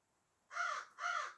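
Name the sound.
crows cawing outside the window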